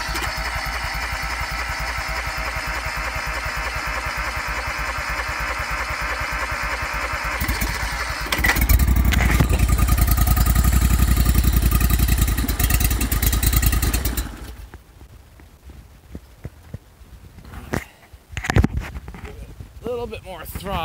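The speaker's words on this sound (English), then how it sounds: "just to get the engine running." John Deere 316 garden tractor repowered with a Honda engine, starting and running: a steady mechanical chug rises into a loud, rough engine roar for several seconds, then drops away to quieter clattering and knocks.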